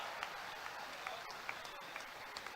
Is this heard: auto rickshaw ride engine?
no